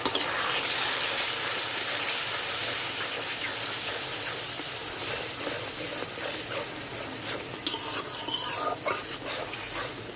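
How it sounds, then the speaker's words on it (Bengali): Spice paste with Kashmiri red chili powder, salt and a splash of water is stirred in a pan, a continuous scraping and sizzling stir that runs steadily and close throughout. "আর একটু জল দিয়া মশলাটা কষাই নিন ভালোভাবে"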